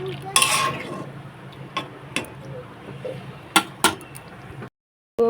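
A metal lid goes onto a cooking pot of eggplant and potato curry, giving a few sharp clinks and clanks among softer kitchen knocks, close and fairly quiet, ending in a brief silence.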